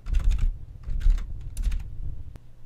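Close, crisp clicks of a computer keyboard as a project name is typed into an OpenGL project setup, coming in quick irregular bursts with short pauses between them.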